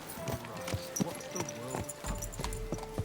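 Horse hooves clip-clop in Kingdom Come Deliverance 2, a steady walking rhythm of hoof falls close by, with a few brief tonal game sounds over a low rumble.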